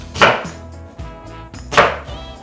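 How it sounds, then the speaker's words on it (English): Onions being chopped into big chunks on a cutting board, two sharp close knife strikes with soft handling sounds between them. "We're gonna chunk them, I guess."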